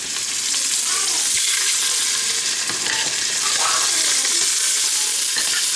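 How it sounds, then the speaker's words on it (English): Pork chops seasoned with salt, pepper, garlic, onion and thyme sizzle loudly in a hot pan, a dense, steady hiss that holds throughout at close range with faint clinks, without any voices. "my pan is getting pretty hot, so I'm gonna go ahead and put the meat in."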